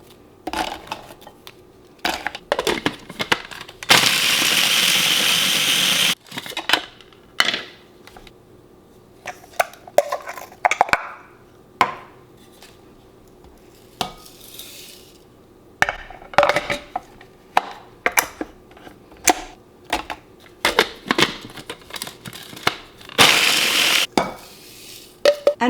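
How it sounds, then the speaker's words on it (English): An electric blender chops Oreo cookies in two loud, steady whirring bursts of a couple of seconds each, one early and one near the end. Clattering, tapping and handling noises from kitchen work fill the gaps between bursts. "When blending the Oreos, we don't want them too fine, so we're going to just put in 10 at a time."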